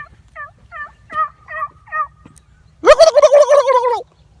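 A man imitates a wild turkey with his voice while calling turkeys on a hunt: a run of six short, evenly spaced yelps, then a loud, rapid rolling gobble lasting about a second, close and clear against quiet surroundings.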